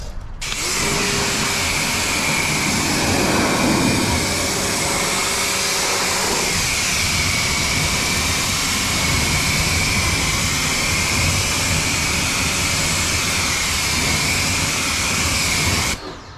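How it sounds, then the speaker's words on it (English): A hose blasts water over a car during a rinse, a loud, steady, broadband spraying rush that runs nearly unbroken before cutting off at the end, with no talking. "So then I'm just going to blast this off. Bring the hose over here."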